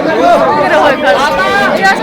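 A dense crowd of pilgrims chatters at Badrinath temple in Uttarakhand, many voices overlapping in a loud, close babble that carries steadily throughout.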